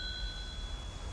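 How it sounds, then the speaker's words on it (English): A bell rings with a steady, sustained metallic tone that holds for about a second, fairly loud and close, with no talking over it. "there's the bell. I'm going to ring it."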